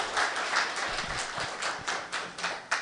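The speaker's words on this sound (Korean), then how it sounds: "박수 한번 우리가" A small audience applauding during a talk, a soft, fairly distant patter of scattered claps with no talk over it.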